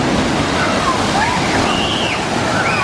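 Rushing water pours and splashes continuously, loud and close, as a large bucket at a water park tips and dumps over a splash area.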